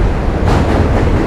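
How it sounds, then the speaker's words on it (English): A train rumbles loudly and close by on a noisy bridge between Brooklyn and Manhattan in New York City, a dense, steady roar throughout the short moment. "Here's another train."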